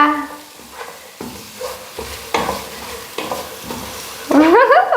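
Carrot halwa flavored with cardamom powder is stirred in a pan, giving repeated scraping, shuffling strokes at an uneven rhythm, close and moderately loud, with a brief warbling tonal sound near the end.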